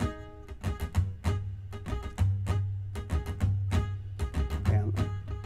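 Acoustic guitar chords strummed in a rhythmic pattern of down and up strokes, close and clear with ringing low notes, no voices.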